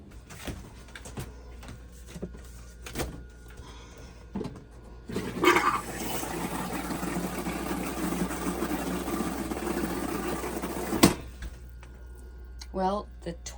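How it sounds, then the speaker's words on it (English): A toilet in a vintage 1976 Argosy RV fills with water: a steady rushing hiss for about six seconds, fairly close, with scattered clunks and faint handling noises before and after it. "Well, the toilet fills."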